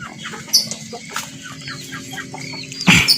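Chickens on an Indonesian chicken farm cluck intermittently in short calls over a low steady background hum, with a louder squawk near the end.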